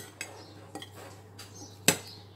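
Salad being tossed in a bowl with utensils: a few sparse, quiet clinks and scrapes, one sharper knock near the end, against a low steady hum.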